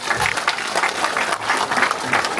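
An audience at a Seosan city mayor's town-hall meeting with citizens in Seongnam-dong claps, a close, lively burst of applause with rhythmic clapping swells that carries on steadily.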